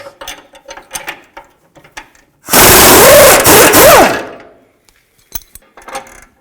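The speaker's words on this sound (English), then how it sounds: "use a 21mm socket. Take these bolts out. Take the nuts off first." Pneumatic ratchet with a 21mm socket removing crossmember bolts on a 2000–06 Chevy Tahoe during transmission mount replacement, giving one loud, close two-second whirring burst between quieter clinks of tools.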